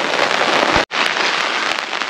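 Heavy rain falls in a dense, loud, steady hiss close by, with a brief cut near the start, during outdoor work on a ladder in a downpour.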